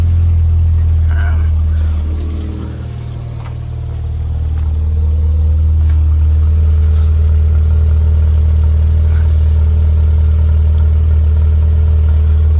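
1995 Rover Mini with an uprated fuel pump: its engine starts and settles into a loud, steady low idle rumble that continues throughout, with a brief dip early on and a person speaking faintly over it.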